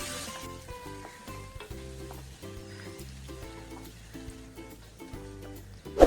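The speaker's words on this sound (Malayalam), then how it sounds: "ഇഞ്ചിയും പച്ചമുളകും കൂടെ നന്നായിട്ടൊന്ന് വഴറ്റിയെടുക്കണം." Ginger and green chilies sautéing in a pan for a South Indian garlic pickle, a steady sizzle and stirring under a background music track, with a louder scrape right at the end.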